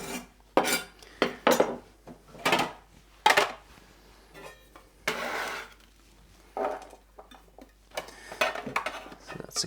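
A knife cutting peppers into cubes on a board, irregular sharp chops and taps in short bursts with quiet gaps between them, close and fairly loud.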